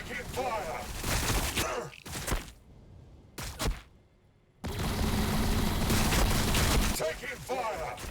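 Gunfire and explosive booms crackle through a Warhammer 40,000: Battlesector battle between Blood Angels and Tyranids, loud dense bursts that drop out briefly mid-clip before resuming with continuous fire and a voice talking over it.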